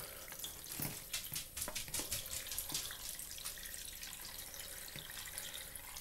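Water pours into a plastic microwave pasta maker for egg noodles, a soft steady splash and trickle heard close but faint.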